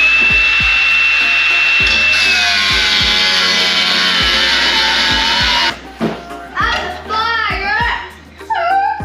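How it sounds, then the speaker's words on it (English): A power grinder works the metal body of a 1967 Camaro under restoration, a loud, steady high-pitched whine close by that gives way to a person talking at the end. "Now I'm going to grind. I'm going to grind through here."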